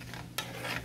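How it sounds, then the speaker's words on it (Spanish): Garlic sizzles gently in butter in a pan for a scallops al ajillo dish, a soft, steady crackle with one sharp clink of a stirring utensil partway through. "Entonces dejamos un ratito que se sofría el ajo"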